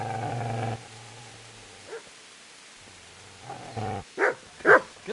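A dog in the medieval game Kingdom Come: Deliverance growls low, then lets out a few sharp barks and yips toward the end, fairly close and with no talking.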